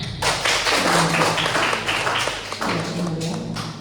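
A class of students in an Indonesian classroom claps hands together in a dense, continuous burst of applause, with a voice briefly heard underneath.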